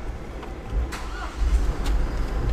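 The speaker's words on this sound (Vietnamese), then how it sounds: "Xe Hyundai là anh em phải đạp côn nó mới nổ máy được nha anh em." A Hyundai EX8 7-ton truck engine cranks and catches, settling into a low rumbling idle close by.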